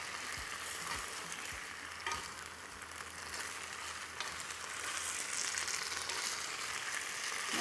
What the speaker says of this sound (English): And the fire is still on high, because stir fries are quick cooking.